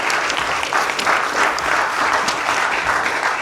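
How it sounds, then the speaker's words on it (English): Sustained audience applause at a Women of the Year awards ceremony hosted by a state senator, a dense, steady clapping crowd filling the room for several seconds without talk. "Big round of applause again."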